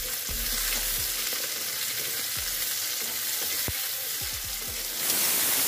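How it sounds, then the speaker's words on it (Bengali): Chopped onions and green chillies fry in oil in a wok, a steady close sizzle broken by scraping stirs, flaring louder near the end. "এখন আমি কড়াইয়ে তেল দিয়ে দিচ্ছি, আর 3টে পেঁয়াজ কুচি করে রেখেছিলাম, আর 5টা কাঁচা লঙ্কা নিয়ে নিয়েছি।"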